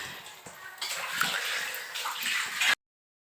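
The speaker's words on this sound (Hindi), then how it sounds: "ये थाली धो रही हैं" Water sloshes and splashes while a steel thali plate is being washed, with a continuous running, gurgling wash that swells midway and stops abruptly.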